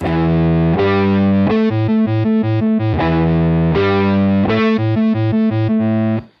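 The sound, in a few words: guitar through cross tremolo filter pedal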